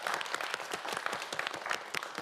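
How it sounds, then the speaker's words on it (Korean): Studio audience of the YTN quiz show QUIZ 킹왕짱 applauds a student contestant: a steady, dense patter of many hands clapping at moderate volume throughout, with no talking. "여러분 큰 박수 다시 한번 부탁드립니다."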